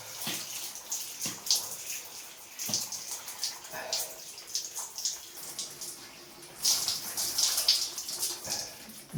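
Cold shower water pours over a person's head in uneven, splashing bursts of spray, near and moderately loud, with some heavier gushes toward the end.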